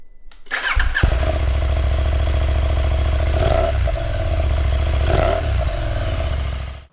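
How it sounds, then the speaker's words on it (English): A KTM 890 Adventure motorcycle with its stock KTM exhaust starts up and settles into a loud, steady idle with a couple of brief blips of revving, heard close with no talking. "So this is what the bike sounded like with the KTM exhaust on there."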